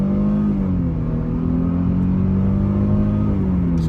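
A 2011 Mercedes E350 Cabriolet pulls hard at full throttle on a highway, its engine droning loud and steady with a smooth rising tone and a low rumble underneath, with no voices over it.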